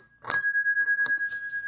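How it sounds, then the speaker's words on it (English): A small bell rung gently indoors beside a microphone: a bright metallic strike followed by a long steady ringing tone, then a softer second tap that sustains and slowly fades. "we're going to quietly ring the bell"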